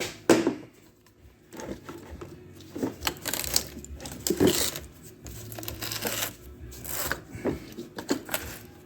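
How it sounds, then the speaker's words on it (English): A wire brush scrubs corroded car battery terminals on a 2003 Dodge Dakota, in short, uneven scraping bursts with brief pauses between strokes, fairly close and with no one talking. "Try the wire brush one first"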